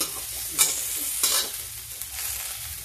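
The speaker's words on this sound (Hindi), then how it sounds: "थोड़ा ये भी फ्राई हो जाए हल्का सा" Cut eggplant frying lightly in a pan, a close, steady sizzle broken by a few scraping stirs of a spoon.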